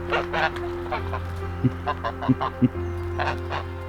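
Geese honking nearby in a backyard flock kept alongside chickens: a few loud, short honks and clucks ring out over a steady low background hum.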